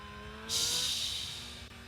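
A Yamaha R6 sport motorcycle revs its engine under a faint steady drone, then a loud rushing hiss surges in after half a second and slowly tapers off, with no voices.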